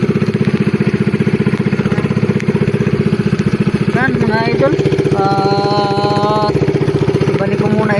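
A fishing boat engine idles close by in heavy rain, a loud steady mechanical chugging that runs throughout while someone talks over it and high whistling tones sound briefly.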